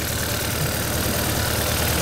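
A Kia gasoline direct injection engine runs rough while misfiring on cylinder 3, a steady close idle with an uneven, lumpy low-end pulse and faint knocking throughout, no voices.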